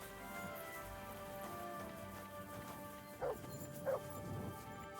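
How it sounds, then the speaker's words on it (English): Dog in the medieval video game Kingdom Come: Deliverance 2 giving two brief whimpering yelps over a quiet ambient drone, faint and slightly distant. "Is that dog alright?"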